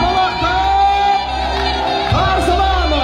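Wedding guests cheer and whoop as a crowd to welcome the new in-laws, loud overlapping shouts and voices with someone talking through the noise; clapping is not distinct.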